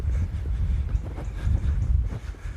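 Wind blows hard across a microphone at a beach, a steady low buffeting rumble with gusty swells and no talk.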